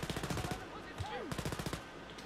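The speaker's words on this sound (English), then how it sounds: "Did I just get shot in the back?" In Wolfenstein Youngblood, rapid bursts of automatic gunfire stutter in quick rhythmic volleys, pause briefly, then resume with another dense burst; there is no talk.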